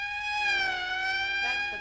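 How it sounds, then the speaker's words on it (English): A steady wailing siren with a slight downward pitch sweep, sounding fairly close and continuous. "That's the fifth siren in the last hour."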